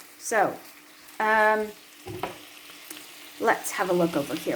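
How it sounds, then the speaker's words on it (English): Bacon sizzles in a frying pan, a steady low hiss running beneath someone talking close by in a home kitchen. "So as you can see, this is sizzling up really nicely."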